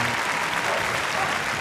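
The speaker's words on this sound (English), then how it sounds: "So a big round of applause to the guys there" A large indoor audience at the Crufts dog show applauds steadily, a dense, even wash of clapping filling the hall for the whole moment without a break.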